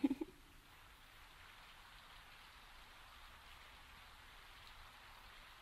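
Soft rain falling at night, a faint even patter that runs steadily after a brief louder knock at the start, with no voices.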